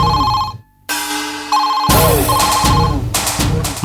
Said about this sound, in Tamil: என்னடா ரிங் போயிட்டு இருக்குமா?